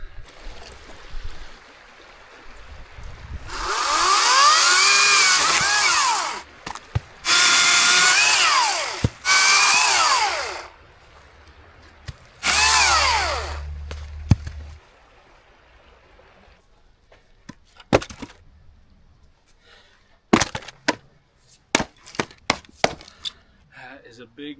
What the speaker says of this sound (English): I might just come down with a chainsaw, zip off a bunch of those, and use those as firewood.